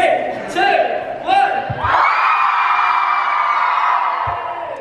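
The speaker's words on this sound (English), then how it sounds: "Everyone scream now, scream!" A live show audience in Manchester or London screams loudly on cue, a sustained crowd roar that follows a brief shouted voice at the start.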